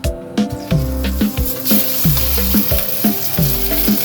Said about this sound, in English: And now we're going to sear these off until they're brown all over